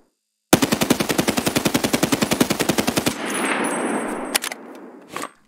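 Unsuppressed SA-58 rifle in Escape From Tarkov held on full-auto while standing still: a loud, rapid, evenly spaced burst of about thirty shots for roughly two and a half seconds, then a ringing tail and a couple of faint clicks.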